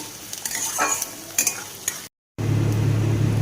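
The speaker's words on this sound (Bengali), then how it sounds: "পেঁয়াজ লঙ্কাটাকে ভালো করে ভেজে নিতে হবে।" Onions and chillies sizzle and fry in a pan with scraping stirs, briefly cut to silence before a steady loud sizzle resumes.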